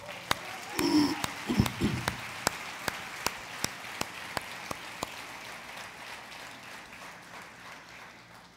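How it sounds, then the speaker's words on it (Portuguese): A church congregation claps in a steady rhythmic beat, sharp evenly spaced claps repeating about every half second over a softer bed of applause, with a brief burst of voices early on. "Você pode dar uma salva de palmas para Jesus?"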